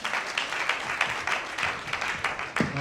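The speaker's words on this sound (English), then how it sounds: "Please, a round of applause for him." An audience at a Leventis Foundation Nigeria alumni ceremony claps in a brief, steady patter of applause, fairly faint and without talk.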